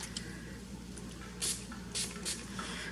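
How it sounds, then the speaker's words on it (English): A quick spray of isopropyl alcohol from a spray bottle, made while preparing a batch of plantain lotion, gives several short, close airy hissing bursts over a low steady background hum. "I'm going to just do a quick little spray with some"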